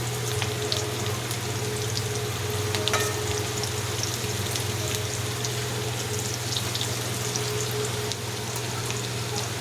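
Okra (bhindi) frying in oil in a kadhai gives a steady, dense sizzle and crackle throughout, with a low steady hum underneath and no voices.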